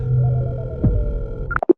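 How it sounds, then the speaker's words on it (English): A phone being dialed plays a steady electronic tone over a low hum, cut off at the end by a few quick separate beeps, loud and close with no talking. "I held my phone out and showed him that I was dialing Eddie's phone"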